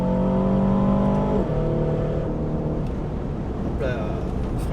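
Aston Martin DBX 707, a 2.5-tonne SUV, drifting on a track, its engine revving high and then dropping sharply through a gear change, with steady tyre and road roar and someone speaking over it.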